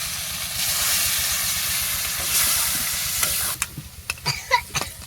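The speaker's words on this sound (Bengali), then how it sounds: "এবার আমি জল দিয়ে দেবো পরিমাণ মতো" Water poured into a pan of hot crab curry bursts into a loud steady hiss of steam for about three seconds, then breaks into sharp, bubbling pops and crackles as it settles, close by with no talking.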